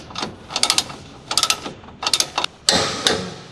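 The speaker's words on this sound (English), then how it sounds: "Using the large 21mm long socket with the large torque wrench, torque the upper control arm ball joint retaining nut" A large torque wrench with a 21mm long socket ratchets in short clicking bursts as it tightens the upper control arm ball joint nut on a Dodge Ram, close up, with brief pauses between strokes.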